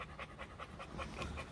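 An American Bully XXL dog pants in quick, steady rhythmic breaths, close and fairly loud, with no other sounds.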